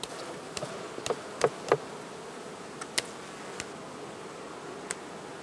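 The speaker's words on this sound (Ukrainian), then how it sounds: "З неї обтрушую бджіл." Honey bees buzz faintly in a steady drone as they are shaken off a hive frame, with a few sharp knocks and taps of the frame standing out above the hum, and no voices.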